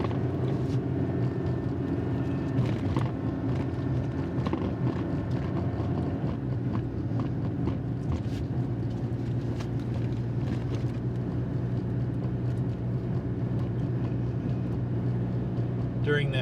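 A 2016 Chevrolet Colorado diesel tows a Cougar 27RES travel trailer on the US 10 freeway, giving a steady, continuous low drone of engine and road noise with wind rumble throughout.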